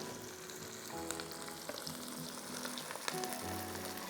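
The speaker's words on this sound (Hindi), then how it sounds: "पहले मैं चावल डाल रही हूँ।" Sela rice pours into hot oil in a cooking pot and fries with a steady, soft sizzle, scattered clinks and stirring scrapes, fairly quiet and close, with no talking.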